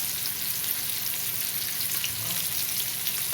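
Fish frying in hot oil over medium heat, a constant bright crackling sizzle that holds steady throughout with no speech.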